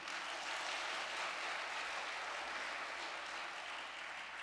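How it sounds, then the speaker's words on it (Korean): Congregation applauds a church choir, a steady, fairly faint wash of many hands clapping continuously throughout, with no talk over it. "언제 들어도 큰 은혜를 주는 천심 청가대 박수 부탁드립니다"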